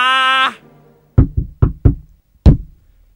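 Five sharp knocks on a wooden door in two groups, four in quick succession and then one more after a pause, loud and close, following a brief sustained musical tone.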